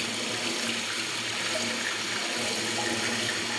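Tap water runs steadily into a sink while hands are washed, a continuous, fairly loud rushing stream with no talking.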